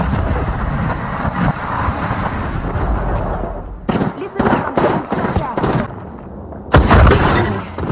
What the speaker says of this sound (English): I'm taking shots. Wow. Opening fire.